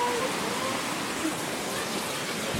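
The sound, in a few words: rain falling near Ouzoud Waterfalls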